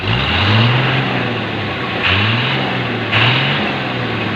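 Diesel engine with a newly installed exhaust pipe at a repair shop, revved three times in quick succession, each loud rising growl settling back toward idle, no speech.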